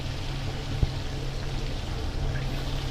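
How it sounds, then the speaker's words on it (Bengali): Bata fish fry in hot oil for a Bengali tel jhal, giving a continuous, even, hissing sizzle at close range with one brief pop. "তেল গরম হয়ে গেছে এবার মাছগুলো একটা একটা করে দিয়ে দু পিঠ ভালোভাবে লাল লাল করে ভেজে নেব"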